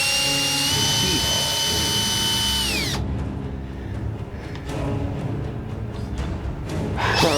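A power drill whines steadily for about three seconds at high pitch, then cuts off, leaving a quieter low hum and scattered noise, with the motor briefly revving up again near the end.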